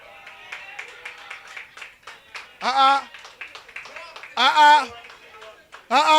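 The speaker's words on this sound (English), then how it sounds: "Don't clap that shit." Comedy club audience in Cape Town breaking into three short bursts of clapping and cheering, each loud but lasting about a second, between stretches of a stand-up comedian talking into a microphone.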